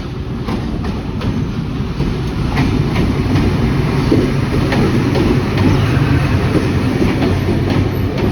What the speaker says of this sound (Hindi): ये पाकिस्तान एक्सप्रेस से पहले एक ट्रेन आई है 13 अप अवाम एक्सप्रेस है।